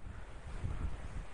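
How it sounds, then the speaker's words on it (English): Strong wind on a very windy UK day buffets the microphone in a steady low roar, with gusts swelling and easing throughout. "My God, that's windy."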